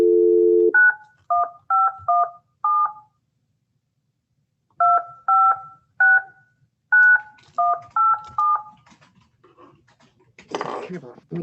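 A telephone dials a number, sending short paired DTMF tones in quick runs, a pause, then another burst of key tones, close and clear, followed by a faint rustle.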